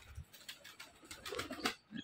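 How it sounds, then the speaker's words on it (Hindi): Domestic pigeons coo softly in a short, faint burst, with light patter and outdoor noise around them at a rooftop loft. "ये देखो क्या मस्त कबूतर है बिल्कुल भाई"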